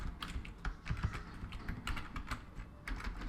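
Python code is typed on a computer keyboard in quick, uneven keystrokes that tap at a moderate distance, fairly quiet with small clusters of clicks and no voice over them.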